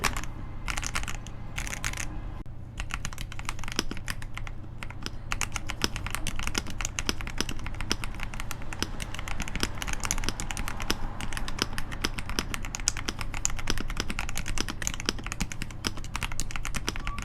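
Steady typing on a KBD67 Lite mechanical keyboard fitted with pre-lubed linear switches and Kino Keys Scout keycaps, a dense run of clacky keystrokes throughout, close and alone over a low constant hum.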